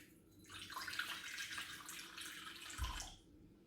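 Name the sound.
pouring a little water for choux pastry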